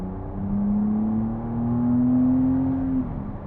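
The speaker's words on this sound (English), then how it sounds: "let's go into sport, get that engine going again" A McLaren Artura's V6 engine revs up in sport mode in a steady rising hum, holding a smooth, strained tone for a couple of seconds before easing off.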